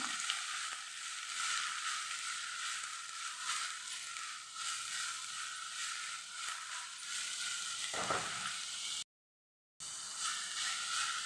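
Cabbage and chana dal fry in a pan with a steady soft sizzle, faint and continuous, broken by a brief stir and a short silent gap near the end.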